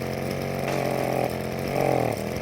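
A Proyama handheld gas leaf blower engine runs on choke while cold, a steady close, loud droning whine with wavering pitch that swells briefly twice, with no talking.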